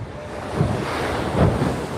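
Ocean waves at Waikiki beach in Hawaii roll in and break steadily, a continuous wash of surf with two swells building around the middle and end, roughened by wind buffeting the microphone.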